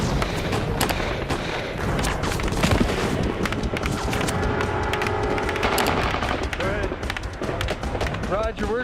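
Machine gun fire rattles in rapid bursts during a video game battle, with booms and layered shots under tense voices talking over the fighting.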